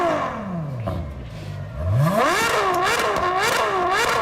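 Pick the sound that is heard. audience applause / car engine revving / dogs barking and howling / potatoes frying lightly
car engine revving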